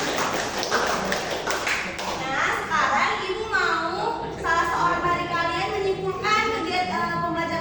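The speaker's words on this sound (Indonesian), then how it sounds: "Kita tepuk tangan dulu semuanya." Elementary schoolchildren in an Indonesian classroom clap their hands together, a quick patter of many small claps up front, followed by children's and a teacher's voices talking over the room.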